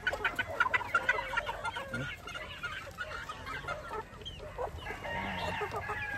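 Young gamefowl chickens cluck and make short crowing calls close by, with overlapping bird voices and a busy farmyard background.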